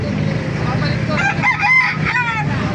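Roosters crow close by at the Baliuag animal market in the Philippines, one call rising and breaking over a bed of clucking and low background noise.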